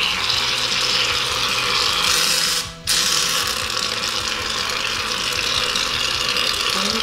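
A stand mixer beats slime made from glue and shaving foam, giving a continuous loud whirring and rattling churn with one brief cut-out midway, no voices.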